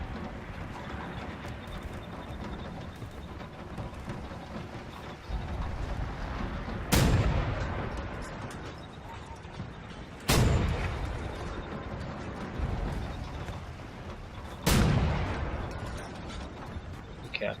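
Heavy turret fire in the shooter game Wolfenstein: The New Order, three loud booming shots spaced a few seconds apart over a steady mechanical rumble of background game noise.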